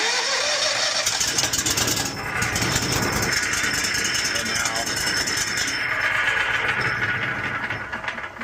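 A Kohler 38 HP engine with a previous no-start fault cranks and fires up, running loud and steady with a rough mechanical roar throughout, no talk over it.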